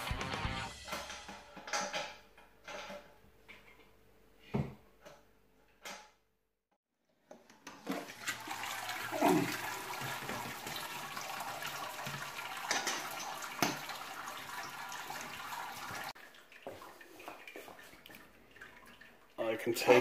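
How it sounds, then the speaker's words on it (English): Hot sparge water flowing over the grain bed in a Grainfather brewing system while brewing a New American Pilsner, a steady close rushing wash lasting several seconds after scattered clunks and handling noises. "And I can get ready to go sparging now."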